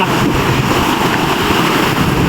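Water rushes over a small canal dam (jhal) in a village, a loud, dense, steady roar with no breaks, heard close up without talk.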